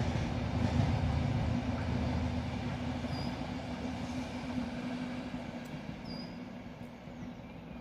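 Train passing on a railway in the English Midlands, a steady rumble of wheels and cars rolling by at moderate distance, slowly fading, with a couple of faint high squeals.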